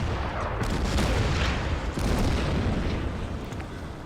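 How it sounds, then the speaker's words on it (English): Artillery shells pound a jeep in the Order of Battle war strategy game, producing heavy, continuous booming and rumbling explosions with a loud, dense texture that eases slightly toward the end. "And the artillery will fire on... Let's just fire on that jeep."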